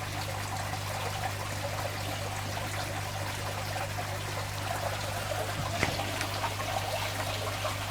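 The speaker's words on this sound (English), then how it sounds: "we've got quite a few drips coming out, but then you just tighten that up slowly" Water dribbling and trickling from an aquarium tube into a shrimp tank, a steady soft stream over a constant low hum, with one slightly louder splash near the end.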